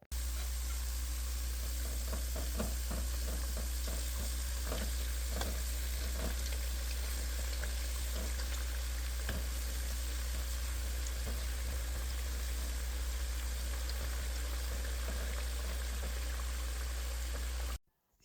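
Potatoes fry in a pan for kazan kebab, giving a steady crackling sizzle with scattered pops over a constant low hum, with no talk.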